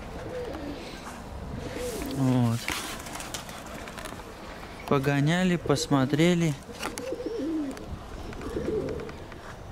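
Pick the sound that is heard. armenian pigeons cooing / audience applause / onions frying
armenian pigeons cooing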